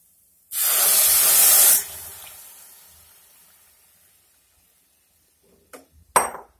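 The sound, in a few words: milk poured into pan of roasted carrot for kheer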